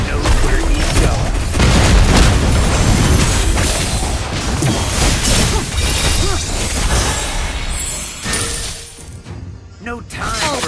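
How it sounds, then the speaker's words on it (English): Turret being destroyed in the mobile game Mobile Legends, a loud booming blast amid dense layered game effects and music, with voices speaking over much of it before the noise thins out near the end. "Your team destroyed a turret!"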